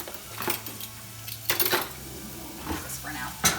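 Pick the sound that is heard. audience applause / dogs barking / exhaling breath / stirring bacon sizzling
stirring bacon sizzling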